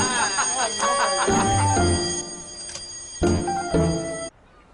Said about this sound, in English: Oh my God, the fire alarm's going off.